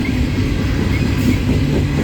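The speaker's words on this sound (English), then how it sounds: "this train is definitely picking up speed now" A slow CSX coal freight train rumbles steadily as it gathers speed, a loud, continuous low drone of rolling cars with faint wheel noise and no talking.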